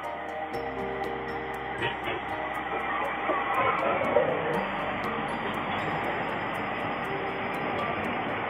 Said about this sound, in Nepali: ट्रेन आउँदैछ